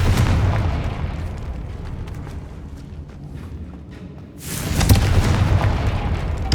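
A blasting spell cast in the Hogwarts Legacy video game bursts into a loud, sustained rumbling boom that dies down to a low roar before a second heavy blast swells up near the end.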